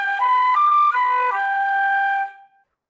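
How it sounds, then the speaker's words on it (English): A flute plays a brief descending run of three or four notes using flutter tonguing, sustained and fairly soft, ending with a quick fade after about two and a half seconds, with no voices. "but if you add flutter tonguing, it sounds like this."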